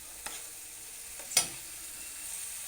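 Tomatoes and spices fry in oil for a village-style pasta, giving a low, steady sizzle broken by two soft clinks of a stirring spoon, one of them sharper than the other.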